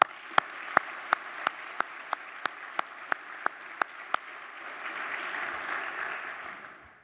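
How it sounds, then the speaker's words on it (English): An audience at a Canadian Club event applauds its directors: a steady wash of clapping that builds and fills the room, with a few sharp, evenly spaced clicks standing out early on. "please join me in applauding our directors"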